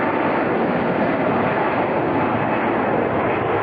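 A plane takes off into the quiet Australian night, its engines giving a loud, steady roar that fills the whole stretch without a break or any voices.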